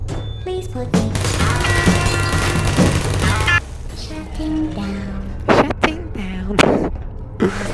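A turret in Portal 2 fires rapid bursts of gunfire, dense at first and then in scattered loud shots, mixed with other game effects.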